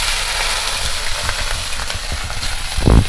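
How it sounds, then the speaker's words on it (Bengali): Mourala fish fries in hot mustard oil with a steady close crackling sizzle, topped by a brief louder burst of spattering near the end. "আমি কিছু করে কম কম করে মাছগুলো দিয়ে ভেজে নেব।"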